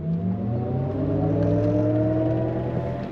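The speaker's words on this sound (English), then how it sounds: "We'll go on throttle from a dead stop." A 2025 Cadillac Optiq Sport electric SUV pulls away from a dead stop under throttle, a smooth, steady rising whine and hum with road rumble heard from inside the cabin, with no talking.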